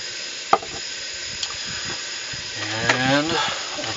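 Sriracha and soy sauce sizzle in a hot frying pan while cooking larb, a soft steady hiss with a few sharp pops and a brief scraping, stirring stretch near the end.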